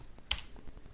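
Commands typed on a computer keyboard while compiling OpenFOAM code: a short run of soft key taps, one sharper click standing out, close and quiet with no talk.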